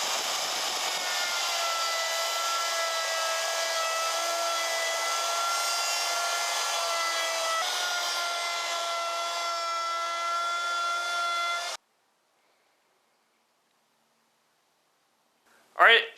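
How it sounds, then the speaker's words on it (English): Handheld router fitted with a chamfer bit cuts an angled edge along a wooden workbench top in a garage, a loud, steady high whine lasting about twelve seconds before it stops abruptly, followed by silence and a brief knock. "switched bits in my router and put my chamfer bit in there, and it's going to leave a nice little angle on the edge of it"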